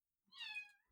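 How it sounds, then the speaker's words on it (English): A cat gives a single clear, drawn-out meow, close and fairly quiet, against near silence. "That was my cat."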